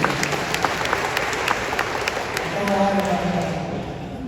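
A church congregation claps together during a Pentecost service, rhythmic clapping under an ongoing voice that carries over the sound toward the end.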